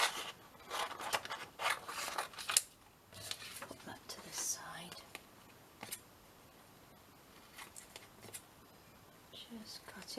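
Scissors snipping through paper close up in a quiet craft setting, a series of short crisp cuts in uneven bursts, interleaved with soft rubbing and paper handling while someone talks quietly.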